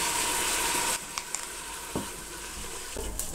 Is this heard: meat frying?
yes